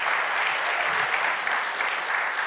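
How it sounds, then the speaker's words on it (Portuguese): A church congregation applauding during a sermon, a dense, steady wash of clapping hands that fills the space evenly and keeps going without a break. "pode aplaudir, Jesus está voltando"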